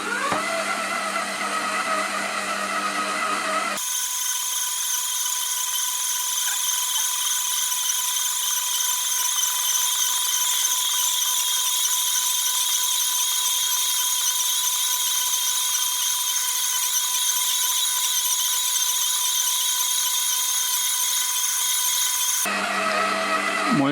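A Heichkell 1400W stand mixer with a 6.2-litre bowl runs at low speed kneading bread dough, giving a steady, loud motor whine with a constant high hum, starting and stopping abruptly, with no talking.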